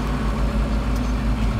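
A tractor engine idles and runs steadily on a farm during planter setup, a low continuous rumble with a constant hum, close and loud throughout with no speech.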